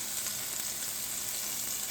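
Small quarter of white onion sizzling in a frying pan, a steady bright crackle that stays even throughout with no voices.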